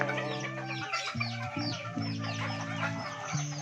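Several Japanese bantam chickens cluck and chatter continuously at close range, their short calls overlapping against a steady low hum in the background.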